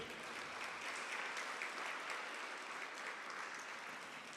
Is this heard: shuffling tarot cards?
no